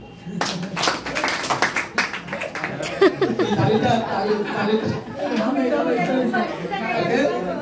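An audience at a seminar breaks into a burst of clapping mixed with chatter and chuckles, the hand claps dense at first and then thinning into a murmuring crowd with talk over it.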